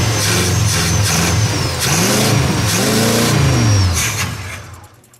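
A car engine revs hard with the gas pedal pressed, surging up and down in pitch several times before dropping away, loud and close with no talk.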